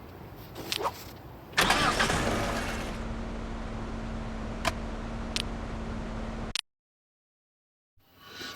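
Car engine in the video game Car Simulator 2 during a drift, starting with a sharp burst and then holding a steady mid-pitched hum with brief clicks before cutting off abruptly, then faintly returning.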